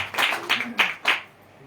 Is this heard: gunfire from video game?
no